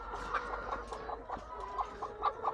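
Lohmann Brown layer hens cluck and chatter continuously on a large poultry farm, many birds overlapping in a busy, close flock.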